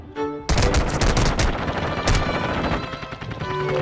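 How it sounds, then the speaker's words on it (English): Rapid bursts of automatic gunfire in the Call of Duty shooter game, with sharp cracks and rattling volleys following one another closely and loudly over a dense battle din. "Somebody else is shooting at me."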